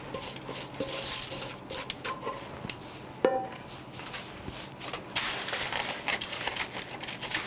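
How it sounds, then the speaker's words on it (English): Salt crust is packed by hand around a rockfish stuffed with thyme and lemon slices, a gritty, crunchy crinkling and patting that runs steadily at low volume, with one brief sharper knock. "now we're going to totally encase it in this salt crust"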